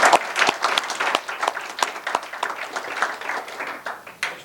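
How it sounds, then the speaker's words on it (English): An audience at a green and sustainable energy housing forum breaks into applause, a dense wash of many hands clapping at steady volume for several seconds, with a few louder close claps standing out. "Round of applause."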